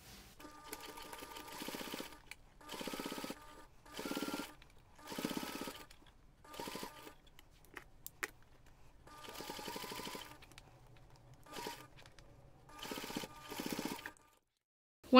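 A sewing machine stitches the seams of a fabric cup sleeve, running in repeated short bursts of rapid mechanical clatter separated by brief pauses, close and fairly quiet, with no talking.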